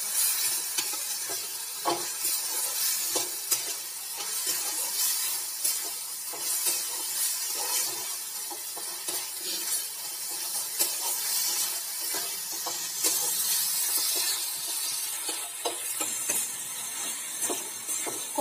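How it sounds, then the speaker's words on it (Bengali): Fried makhana (fox nuts) being cooked down in masala in a pan, a continuous close hissing sizzle with frequent spatula stirs and scrapes throughout, no voices. "মাখনাটা দিয়ে আর একটু ভালো করে কষিয়ে নিচ্ছি।"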